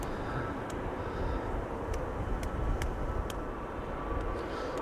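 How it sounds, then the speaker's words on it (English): An Air Astana Airbus A321neo airliner approaches at Amsterdam Schiphol Airport, a steady, fairly distant broadband roar and low rumble that holds throughout, with a few faint sharp clicks on top. "Looks like Air Astana to Attirau is the first airplane coming this way. It's an A321neo, flight 904."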